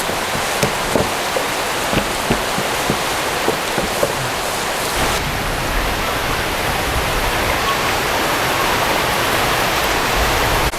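Heavy rain pours down steadily in a continuous broadband wash, with scattered drip-like taps early on before the downpour thickens into an even roar; no talking.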